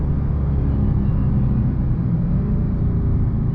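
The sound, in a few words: supercharger of a 2020 Dodge Charger SRT Hellcat Widebody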